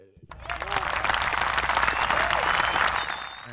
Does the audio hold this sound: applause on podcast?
yes